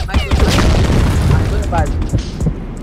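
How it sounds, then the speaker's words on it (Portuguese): Grenade blasts in an online first-person shooter, several booming bursts through the clip, overlapped by excited players talking over team voice chat. "Granada! Flash! Cuidado com seus granada!"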